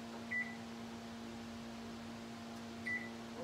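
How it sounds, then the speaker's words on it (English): A kitchen timer being switched on gives two short, high electronic beeps about two and a half seconds apart, faint over a low steady hum in a quiet kitchen. "Oh, I got to turn my timer on."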